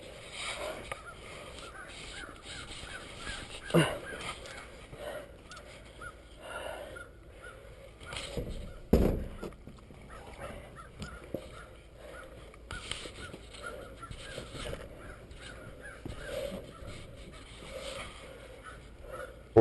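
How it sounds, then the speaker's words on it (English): Crows cawing behind a building at night, several harsh calls spaced irregularly at moderate distance over quiet outdoor ambience. "Listen to these birds back there."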